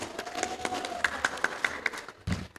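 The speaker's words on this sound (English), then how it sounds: "please give them a big applause" Audience at a high school English debate competition grand final gives a round of applause, a spread of claps and taps lasting a few seconds, moderately loud in a large room.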